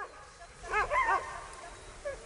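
Sled dogs, malamutes and huskies, bark and yelp in a short burst of several calls, then a single later yip, over steady background rumble.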